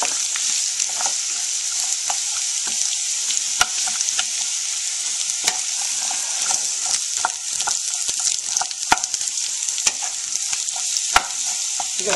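Garlic and onions stir-fry in a hot pan with a steady high sizzle, broken by scraping clicks from regular stirring, close and constant throughout with no talking.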